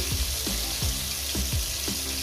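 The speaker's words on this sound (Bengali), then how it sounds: "আমি কত সুন্দর করে টমেটোটা আমি ভেজে নিচ্ছি" Tomatoes fry in a pan for an eggplant bharta, giving a steady, dense sizzle with several soft scraping stirs mixed in.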